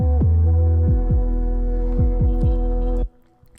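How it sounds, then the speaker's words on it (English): A beat pairs a horn sample with deep, booming 808 bass hits that thump in an uneven rhythm under the sustained horn tones, loud and close, then cut off abruptly near the end. "So now the horn plus 808 sounds like this."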